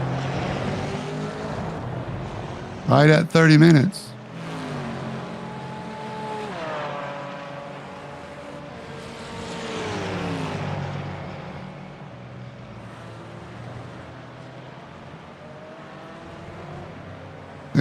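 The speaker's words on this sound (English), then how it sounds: "we're seeing cars come into pit" GT4 race cars at Red Bull Ring drone through the pit lane, engine tones rising and falling as they pass, with a sharp loud burst early on, while a commentator speaks over the steady motor noise.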